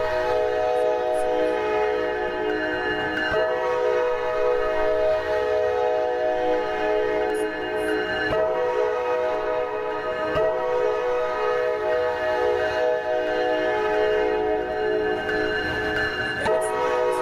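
A train in a Roblox game rumbles steadily past with a sustained tonal horn-like drone, loud and continuous, with a few faint clicks along the way.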